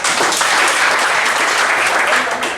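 Audience applause at a welcome gathering, a dense, steady burst of many hands clapping close and loud throughout, with a faint voice underneath.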